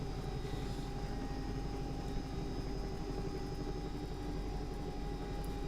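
A simulated Bell 222 air ambulance helicopter in X-Plane 11 spools for takeoff, its rotor and turbine making a steady, dense thrum with a faint whine above it, continuous and unbroken, with no voices.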